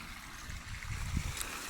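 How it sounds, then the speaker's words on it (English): Running water in a backyard aquaponics filter system with working skimmers, a steady close wash of flowing, trickling water with a soft low gurgle. "Just a quick peek of what running water looks like, and our skimmers are working just fine."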